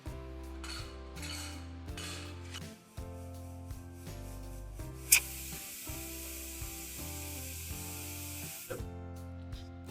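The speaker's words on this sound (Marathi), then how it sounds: "आपण मीडियम फ्लेम ठेवून कुकरच्या 3 ते 4 शिट्ट्या काढणार आहोत" A pressure cooker on a medium flame, cooking chicken rice, lets out a sustained hissing steam release for about three seconds. It rises over quiet background music, then cuts off sharply.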